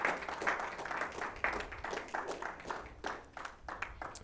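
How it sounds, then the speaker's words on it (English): A church congregation claps hands in praise during a worship service, a dense sustained burst of many palms with rhythmic surges, loud and close, no voices standing out. "let's give the Lord a hand clap of praise today"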